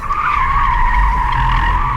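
Loud, sustained tire squeal as an electric car skids during a handling test, a steady high screech over a low rumble, close by.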